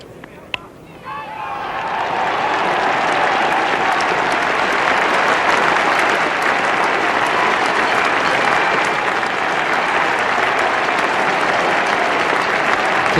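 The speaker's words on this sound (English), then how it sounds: "a very good hand from this crowd" Sustained crowd applause for a batsman reaching fifty at Lord's during the 1973 West Indies vs England Test, swelling quickly from near silence into a dense, even roar of clapping that holds steady for many seconds.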